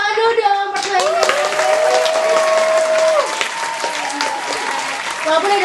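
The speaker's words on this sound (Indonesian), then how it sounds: "tepuk tangan dulu dong pertanyaannya" Studio audience applauding through a game-style show segment, a steady dense clapping wash holding for several seconds with speech and musical tones layered over it.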